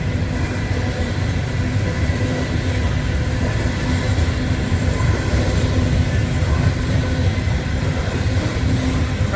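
A fuel train rolls past in Cartersville, Georgia, a continuous loud rumble and rail clatter that holds steady from start to finish with no pause.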